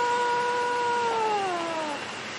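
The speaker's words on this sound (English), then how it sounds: "Daisy Plum, she's just a cat." A cat gives a long, drawn-out meow that wavers and slowly falls in pitch, loud and close with no talk over it.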